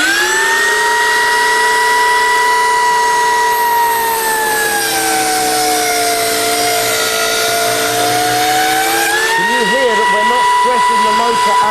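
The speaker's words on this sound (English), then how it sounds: "look at how effortlessly these saws will go through this material" An Exakt DC270 saw cuts through material with a loud, continuous motor whine whose pitch dips under load and then rises again, close up and dominant throughout.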